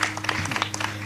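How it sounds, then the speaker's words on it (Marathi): Brief burst of audience clapping during a Marathi kirtan, scattered claps over a steady low hum, lasting about a second. "टाळी वाजवा"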